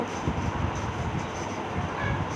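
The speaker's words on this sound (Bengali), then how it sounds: "এখানে ট্রেন যাচ্ছে, দেখতেই পাচ্ছেন" Continuous low rumble and rattling of a train rolling past near a fairground, steady and moderately loud with no voices.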